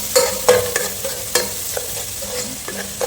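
Onions sautéing in oil for a mutton intestine curry, stirred with a spatula that scrapes and clacks against the pan in irregular strokes over a steady close sizzle.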